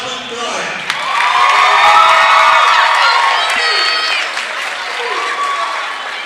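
A gym crowd at a high school boys basketball senior night applauds and cheers for graduating seniors, loud, dense clapping that swells and holds, with whoops and children's shouts on top.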